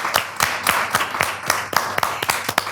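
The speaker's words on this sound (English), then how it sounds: "I think we should give this gentleman a big round of applause." An audience claps for a cameraman at a Ghanaian church event, irregular individual hand claps spaced out and fairly close, not a full dense ovation.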